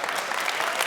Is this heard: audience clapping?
yes